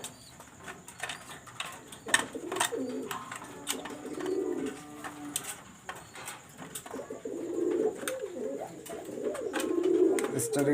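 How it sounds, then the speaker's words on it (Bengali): Cooing of a single male pigeon, soft low purring calls recurring through the clip with some background clatter, close and moderately loud. "একটা সিঙ্গেল মেল কবুতর আমি দেখাচ্ছি"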